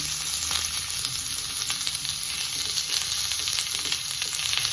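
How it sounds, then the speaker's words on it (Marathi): Onion sautéing in oil, a dense, loud, unbroken sizzle heard up close, with faint occasional stirring and no speech. "त्यामध्ये आपल्याला कांदा छान परतून घ्यायचा आहे।"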